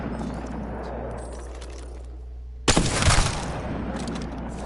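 A single loud crack from a Wingman pistol fitted with a Skullpiercer in Apex Legends, followed by a short booming tail and then a steady background hum.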